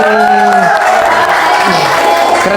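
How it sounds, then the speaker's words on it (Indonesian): An audience at a campus podcast session claps and cheers loudly and close by, with excited voices shouting over a dense wash of crowd noise. "boleh kita kasih tepuk tangan buat Kak kita ini"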